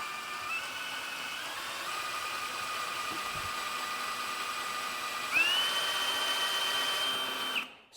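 A power drill turning a tenon cutter runs steadily at close range, whining continuously with a slight pitch rise midway before stopping abruptly at the end.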